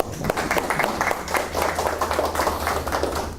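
An audience at a science lecture applauds, a continuous bed of many hands clapping with a low hum underneath, steady and moderately loud throughout.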